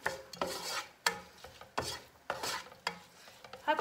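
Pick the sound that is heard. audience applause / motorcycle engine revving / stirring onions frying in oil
stirring onions frying in oil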